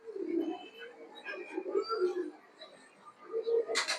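Pakistani High Flyer pigeons give soft, low repeated coos in close, gentle bursts, with a brief sharp noise at the end.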